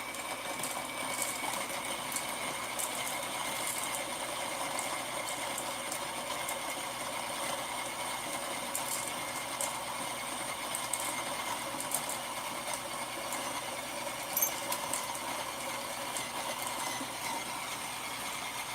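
A coffee grinder runs at a low RPM setting, giving a steady, even mechanical whir that holds unchanged for the whole stretch with faint higher rattles, close by and without any talk.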